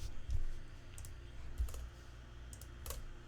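A few isolated computer keyboard clicks tap out at irregular intervals while a web developer types, near and soft above a low background hum.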